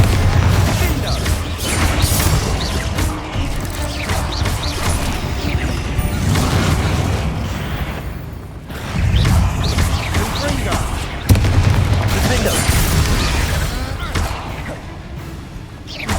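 Spell-cast blasts from Confringo and Bombarda in Hogwarts Legacy, fought against spiders in a mine, repeated heavy booms and crashing impacts with mechanical clatter, loud and near, separated by brief gaps.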